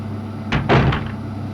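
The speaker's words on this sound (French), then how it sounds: "on ouvre la porte tranquillou" A door creaks and thuds open in the Resident Evil 2 video game, a short pair of swooshing, clunking pulses that sound close and fairly loud.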